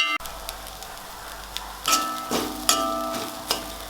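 Vegetables sauté in a pan for veg salna, giving a continuous close sizzle with several sharp clicks and scrapes of a utensil stirring at irregular intervals, and no one speaking.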